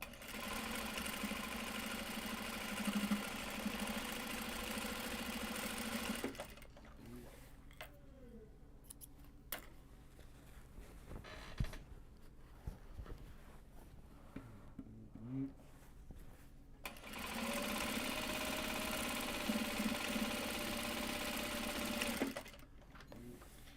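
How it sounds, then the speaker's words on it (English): Sewing machine stitching the box edges of large box bags, running steadily at the start and again near the end with a quieter pause of handling noises between the two bursts. "we just get to sew the box edges"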